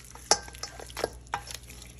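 Lamb chop mixture with garlic being stirred in a pot: a few soft scraping and clinking strokes of a utensil against the pot, quiet and close, with no talking.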